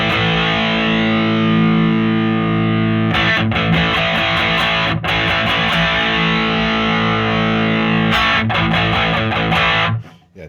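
A heavily distorted electric guitar through a Blackstar HT Distortion pedal plays loud, raspy, mid-trebly chords and chugging strummed riffs, then cuts off abruptly at the end.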